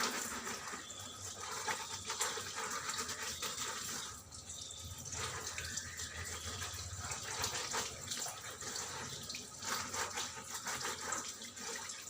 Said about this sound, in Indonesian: Dan kita cuci untuk sarung tangannya